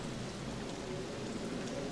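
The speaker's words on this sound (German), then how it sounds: "Übrigens, bei uns regnet es auch momentan." Steady rain falls outside, a dense, even hiss of drops holding constant with no breaks and no voices over it.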